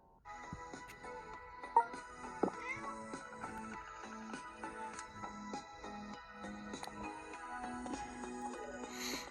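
A cat meows in the mobile game PK XD, a short cry over busy, steady game music with chiming effects throughout.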